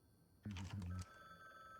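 A phone rings loudly in a video game in a short burst of two low electronic warbling tones, over a faint background hum.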